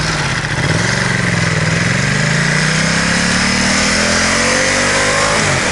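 A Ducati XDiavel motorcycle engine accelerating through gears, a loud, close, rising growl that climbs steadily in pitch, then drops briefly before climbing again.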